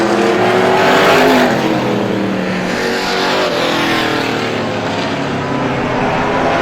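Vintage race cars roaring around the Star Speedway oval at a vintage heat race, a loud continuous engine drone that swells and fades slightly as the pack passes, with no speech.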